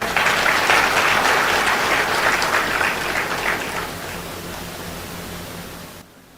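An audience at a book festival applauds the organising officials: sustained, dense clapping from a large crowd that slowly fades and then stops abruptly.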